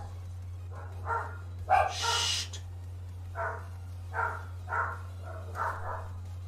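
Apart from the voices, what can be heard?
dogs barking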